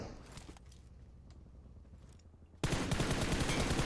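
Video game gunfire from a PUBG-style shooter, quiet scattered shots and clatter giving way to an abrupt, loud, sustained burst of rapid automatic fire close by for the last second or so.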